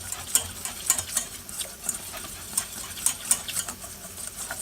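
Spelt flour roux for a mac and cheese sauce being whisked in a pan, giving a steady scraping stir with repeated sharp metallic taps of the whisk against the pan and a faint sizzle beneath.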